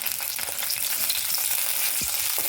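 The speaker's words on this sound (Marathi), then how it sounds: "मिरच्या व्यवस्थित भाजून घ्यायच्या, अर्ध्या कच्च्या ठेवायच्या नाही" Slit green chilies roast in a pan for spicy vangyache bharit, giving a continuous crackling sizzle close by with small pops and no voices.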